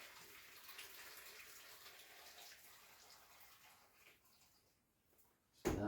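Hot water pours from a kitchen tap in a steady, fairly quiet hiss that trails off to a near stop, and then a sudden loud clunk follows right at the end.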